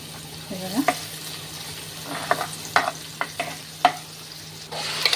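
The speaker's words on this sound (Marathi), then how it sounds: "वाटण मी थोडं परतून घेते थोडंसं फोडणीला घालून वाटण परतून घेते तेलावरती" Ground masala paste stir-fried in hot oil for a chicken thali: a steady low sizzle broken by several sharp spatula scrapes and knocks against the pan, close and fairly loud, with no talking.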